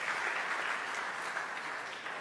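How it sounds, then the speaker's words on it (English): An audience at a hydrogen metallurgy symposium claps for a speaker, producing a dense, even patter of applause that holds steady for about two seconds and then tapers slightly. "so give applause to Dr."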